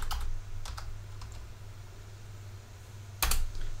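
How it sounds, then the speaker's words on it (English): Computer keyboard with several crisp key presses in short clusters, close and fairly quiet over a low steady hum, with a louder burst of clicks near the end. "Backspace 3 times."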